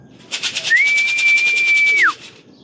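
Whirring wingbeats of racing pigeons arriving at the loft during a first-lap race, with a steady high whistle rising and holding for over a second before dropping away, close and fairly loud.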